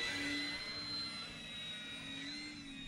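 An E-flite RV-7 radio-controlled model airplane flies overhead, its electric motor a steady, fairly faint whine that holds a thin high tone and drifts slightly in pitch as it passes.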